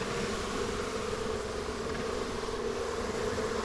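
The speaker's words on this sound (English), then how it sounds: "There's some bees up there." A swarm of about 30,000 bees buzzing steadily and fairly softly, a continuous dense hum from many insects with no talk.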